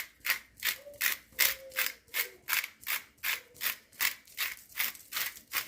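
A hand grinder grinds seasoning in a steady rhythm of ratcheting, crunchy strokes, about two or three per second, close and fairly quiet, with no talking.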